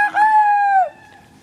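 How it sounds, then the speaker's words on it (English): A farm chicken lets out one loud, close, sustained call that drops off sharply after about a second, followed by quiet. "Why are you so mean to chickens?"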